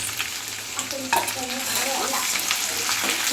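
Ginger and a whole head of garlic fry in hot oil for a fish pickle, giving a loud, close, continuous sizzle with occasional stirring scrapes.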